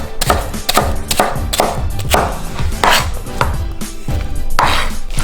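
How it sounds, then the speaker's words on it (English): A knife chops steadily on a cutting board, finely mincing red onion with quick, loud, rhythmic knocks that run without pause. "So we're just gonna mince this up really finely."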